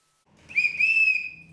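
A single shrill whistle blast calls all hands on deck. It swells in quickly, holds a steady, slightly wavering tone for about a second, then fades, clear and close.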